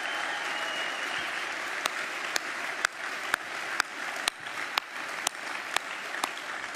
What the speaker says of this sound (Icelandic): ef ekki að klappa fyrir manninum, hann hérna fremst að bekk.